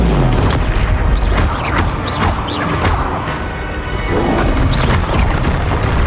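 Confringo blast spell in the Hogwarts Legacy video game, heavy booming explosions and crashing impacts in a dense, continuous game soundscape, loud and close throughout.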